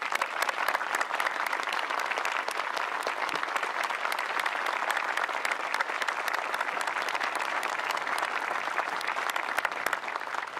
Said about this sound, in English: please stand up so that we can give you a round of applause for making this happen